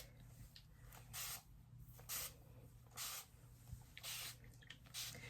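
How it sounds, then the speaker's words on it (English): A spray bottle mists water onto a scalp with micro locs in about six short, bright hissing bursts, close up, separated by quiet gaps over a low steady hum. "I like to spray my scalp with a little water before I put the oil"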